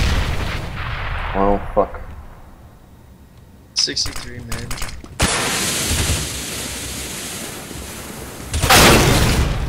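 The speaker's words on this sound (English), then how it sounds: "throwing a grenade" Grenade blast in a tactical team shooter game: a sharp burst followed by loud rumbling debris, with players talking and swearing over it.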